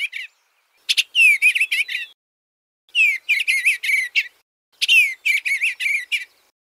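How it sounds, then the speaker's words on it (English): A bluebird sings in three separate bursts, each a quick run of high, warbling chirps and whistled notes divided by short silences. No other sounds are present. "B for blue bird."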